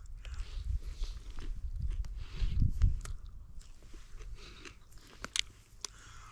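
Someone bites into and chews a freshly picked wild mushroom outdoors, giving soft, moist crunching bursts close to the ear, with faint rustling and a few sharp clicks toward the end.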